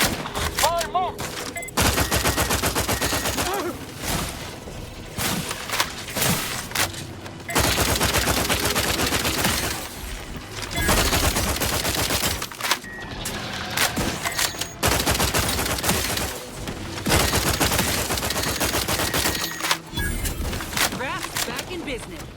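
Heavy gunfire in the PC game The Outer Worlds 2, loud sustained bursts and rapid volleys that fill the scene, broken by short pauses and game sound effects.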